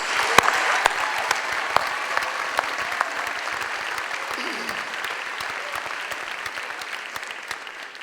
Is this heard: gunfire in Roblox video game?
no